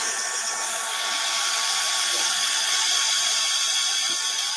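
A hair dryer blows steadily on steampunk sunflower craft pieces, a constant loud whooshing hum with an even airflow hiss that holds for several seconds without a break.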